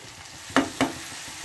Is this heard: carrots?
yes